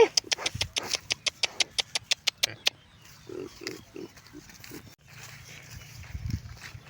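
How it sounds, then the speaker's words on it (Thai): Wild boars being driven out to forage in an open field, with a rapid run of sharp grunts followed by low snorts and rustling, while people call out nearby. "ออกมาไล่หมู เลี้ยงหมูป่าเลี้ยงควายเลย"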